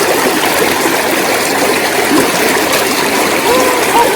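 Water runs steadily while wild fern shoots are washed, making a continuous close trickling rush with faint splashes.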